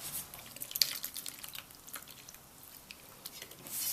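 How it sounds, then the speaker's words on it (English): Water trickles into a bowl of flour for momo dough, soft splashy drips and a gentle pour, faint and close, with uneven patters and no talking. "Now I'm going to add the water."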